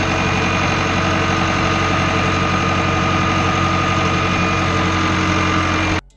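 A tractor pulling a Euroboss loader wagon in a field runs with a steady, loud, droning engine hum, unbroken for six seconds before cutting off abruptly at the end.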